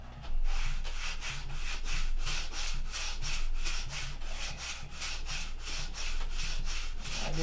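Steady back-and-forth strokes of 180 grit sandpaper rub across a workpiece to remove scratches, a loud rhythmic rasping at a regular pace, close up and with no talking.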